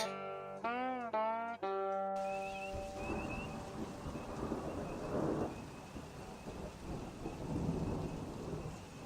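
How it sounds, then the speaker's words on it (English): Spring rain falls steadily outside a porch while thunder rumbles low and long, with a short harmonic tone at the very start before the wash of rain takes over; no one speaks. "It's raining outside, it's spring, and the time changes tonight."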